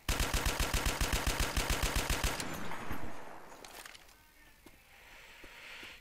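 A shotgun fires in the zombie shooter game Left 4 Dead 2: a fast, evenly spaced string of about fourteen loud blasts over two seconds, then a trailing rumble and quieter scattered background noise.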